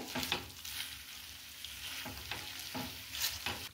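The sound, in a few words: stirring fresh cream into paneer filling in a pan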